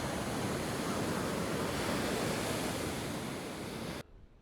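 Ocean waves wash continuously onto the coast at Saint-Tropez's Plage de Pampelonne, a steady, loud rushing surf with wind, cutting off abruptly near the end.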